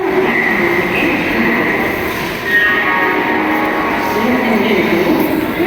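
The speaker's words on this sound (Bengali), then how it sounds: "ফাইনালি আমাদের ট্রেন এখন এসে পৌঁছালো হাওড়া জংশনে" A Vande Bharat sleeper train rumbles steadily along the rails into Howrah Junction, with a metallic squeal rising midway, while voices murmur faintly in the background.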